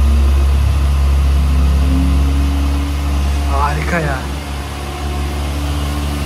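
A Kawasaki ZX-6R motorcycle engine idles steadily on its first start, a loud, close, even low rumble that holds the whole time with a brief higher squeal partway through.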